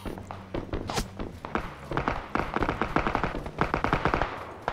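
Rapid automatic gunfire from a Battlefield video game match, dense bursts of shots crackling close and loud with a few heavier thuds mixed in, running continuously throughout.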